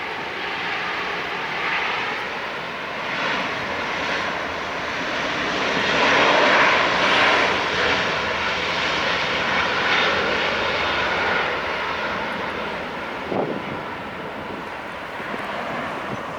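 An ANA Cargo Airbus A330 jet arriving at LAX roars steadily, the engine noise swelling louder as it passes nearest and then easing, with a brief thump near the end and faint wind across the microphone.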